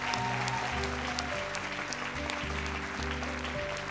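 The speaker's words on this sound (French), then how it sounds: "Sous les applaudissements du public" A studio audience applauds steadily throughout for a child guest joining the stage on a French television talent show, dense clapping mixed with upbeat band music playing underneath.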